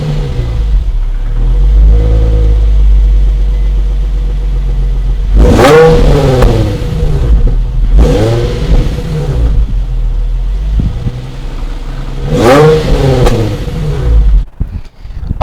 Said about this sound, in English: it has a dual exhaust from factory, and which is awesome and sounds pretty good whenever you get it revved up